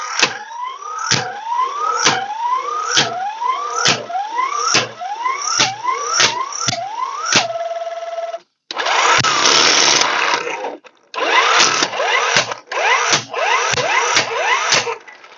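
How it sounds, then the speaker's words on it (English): A 12V electric impact wrench works car lug nuts in repeated loud bursts of hammering rattle, several short hits, then a long continuous run, then more rapid bursts, close and alone. "You can hear the impact"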